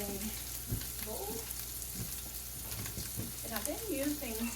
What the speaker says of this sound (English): So we got the chorizo going here.